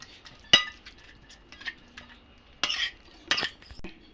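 A utensil mixes butter into a meat marinade of spices, tomato and onion, giving a few sharp metallic clinks and soft scraping strokes against a quiet, still background with no talk.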